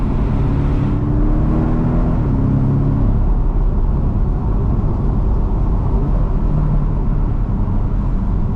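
A Porsche 718 Boxster base model cruises along with a steady, loud engine drone and road rumble throughout, its tone shifting slightly early on, with no voices.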